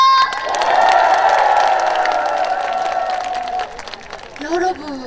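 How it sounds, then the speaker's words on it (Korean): Large outdoor festival crowd at Yeouido Park clapping and cheering loudly together for several seconds, a dense wash of applause and shouts that fades toward the end as a voice begins to speak. "다 같이 박수와 함성!"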